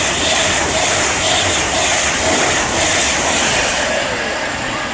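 A passenger train on the West Coast Main Line runs through Watford Junction station, a loud, steady rumble and rush of wheels and carriages that fills the whole stretch with a slight rise and fall.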